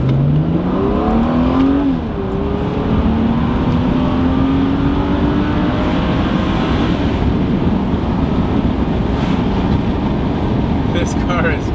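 A Mercedes W202 C36 AMG with its M104 inline-six accelerates hard, engine note rising through the gears in a loud, close, continuous roar with a shift near the start, heard from inside the car.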